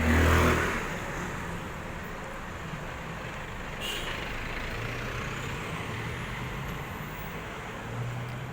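A truck passing on a street near a shop, a steady broad rumble with a louder swell at the start and a faint air-brake hiss, continuous road noise without talk.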